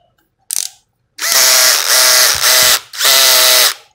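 A cordless battery drill with 21 clutch settings and a drill mode whirs in three sustained loud bursts after a brief short blip, each run steady with slight speed changes.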